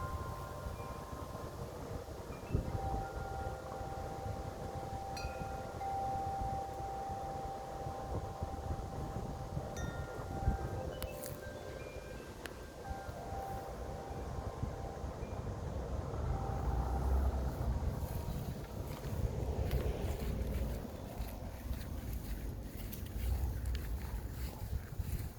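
Strong wind gusts roar and buffet the microphone outdoors on a windy day. The broad rumble is continuous and grows stronger in the second half, with a faint tonal hum in the background.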